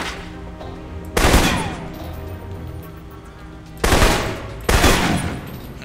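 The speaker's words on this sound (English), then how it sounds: "For long-range encounters, the assault rifle's the key." Assault rifle fire in the video game Alpha Protocol: three loud, sharp bursts of gunfire spaced a few seconds apart, each with a short decaying tail over a low background hum.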